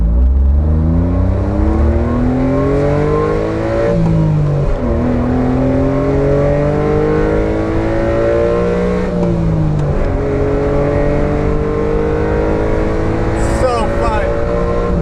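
A Honda Beat kei car engine revving hard toward an 8,000 RPM redline, pitch climbing through repeated gear pulls with brief dips between shifts, loud and close for the whole stretch.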